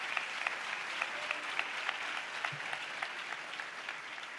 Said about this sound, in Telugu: యేసయ్యకు చప్పట్లు కొడుతూ స్తోత్రాలు చెప్దా.